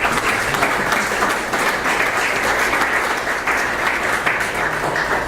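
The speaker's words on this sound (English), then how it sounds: "Give him a round of applause." Steady applause from an audience at a town board meeting, a dense sustained clatter of many hands filling the room at even loudness throughout, with no voices standing out.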